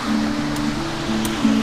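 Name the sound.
flowing water at an old Spanish-era dam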